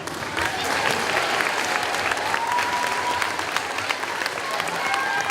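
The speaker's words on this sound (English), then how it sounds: "Another big round of applause." Audience applause fills the hall after a school play, steady dense clapping from a sizable crowd with faint cheering and scattered voices mixed in, sustained throughout without letup.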